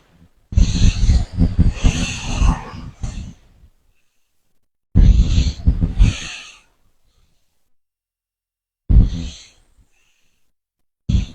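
Heavy breathing during a morning gym workout, with loud inhales and exhales in long bursts, two sustained near breaths followed by shorter ones and quiet gaps between.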